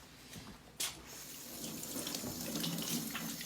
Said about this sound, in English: So the first thing we're going to do is wash hands.